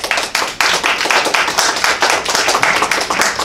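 Audience at a public scoping session on the Lincoln Park grid claps loudly and continuously nearby, a dense burst of hand claps with no talking over it.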